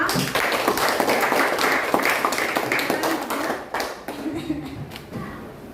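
Classroom applause for a student group's presentation, a dense burst of many hands clapping that fades out toward the end, with voices chattering underneath.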